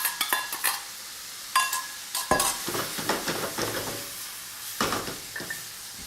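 Beef hits a hot oiled pan with browning onions and sizzles with a broad steady hiss, broken by clattering strokes of a stirring utensil against the pan, close up with no voices.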